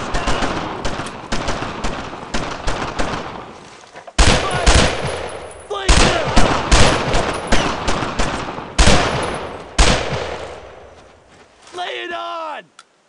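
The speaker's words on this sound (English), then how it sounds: "I need suppressing fire!" Dense suppressing machine gun fire from a Normandy 1944 World War II battle in the Brothers in Arms video game, rapid bursts and volleys loud and close, broken by short pauses while soldiers shout over the gunfire.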